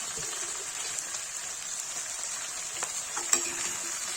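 Potato and pointed gourd cooking in a pan, a steady close sizzle with faint scraping from stirring, a single sharper clink near the end.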